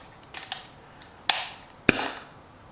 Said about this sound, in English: I don't know why it's making the chirping noise, but we'll find out.